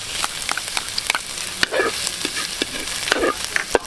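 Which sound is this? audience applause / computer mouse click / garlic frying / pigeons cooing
garlic frying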